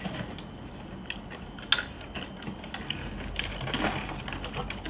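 Someone eats crunchy peanuts, giving irregular close, crisp cracking and crunching bites over soft background noise, with no talking.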